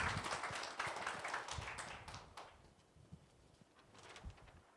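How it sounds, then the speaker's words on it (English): An audience applauds a speaker at a digital marketing talk, dense clapping that thins out after a couple of seconds into a few scattered claps, with faint room noise. "Ladies and gentlemen, please give him a Delhi round of applause"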